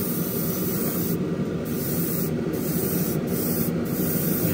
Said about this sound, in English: I have to be able to see and manipulate the airbrush.